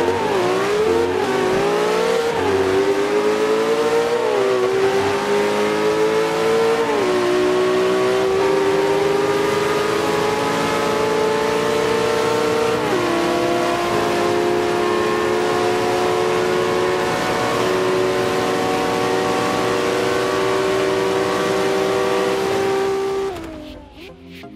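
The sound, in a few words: Ferrari LaFerrari and Koenigsegg Agera engines in Forza 5 video game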